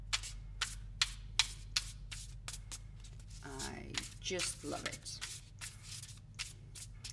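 A mass-market tarot card deck is shuffled by hand in quick, crisp riffling bursts with a papery flutter, close and clear, while someone talks briefly partway through.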